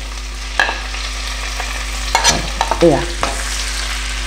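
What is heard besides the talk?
garlic and ginger frying in oil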